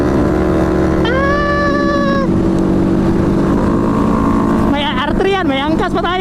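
A Rusi Flash 150 motorcycle is being ridden, its loud, steady engine drone running throughout, with rising and falling whine-like tones weaving above it.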